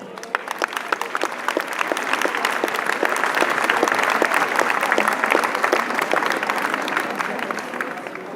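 Sustained audience applause at a flower show prize-giving and inaugural speech, honouring the youth service and teachers: a full crowd clapping steadily, with distinct individual claps standing out throughout.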